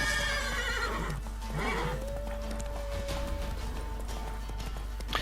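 A horse in the Witcher 3 video game neighs with a long whinny while its hooves clip-clop at a gallop, steady rhythmic hoofbeats running throughout at close range.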